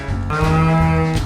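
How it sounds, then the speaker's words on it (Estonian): Electronic children's toy producing a cow moo: a single sustained, steady low tone held for about a second at moderate loudness, with a faint hum before it and no talking. "Lehm."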